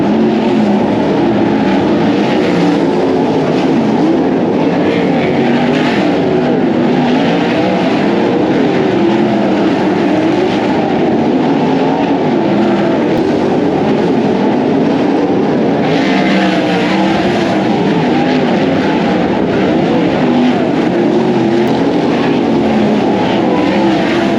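Winged 410 sprint cars racing around a dirt track, a dense continuous roar of engines heard from a distance without a break, steady and loud throughout.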